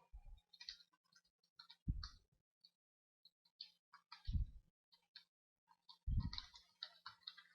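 Quiet clicking of keys on a computer keyboard, short irregular bursts of taps with pauses between, plus a few soft low thumps, all fairly faint and close.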